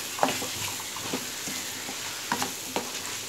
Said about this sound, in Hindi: अब हम मटन को अच्छे से भूनेंगे